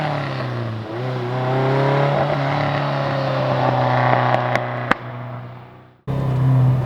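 Carbureted Ferrari 308 GTB engine revving hard through the gears from inside the car, loud rising howls broken by brief shifts, a sharp pop near the end and a sudden cut before the engine returns.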